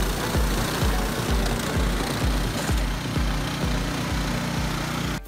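A Craftsman 21-inch single-stage snow blower runs loud and steady, its small engine chugging with an even, rapid pulsing rhythm close by, with no talking over it.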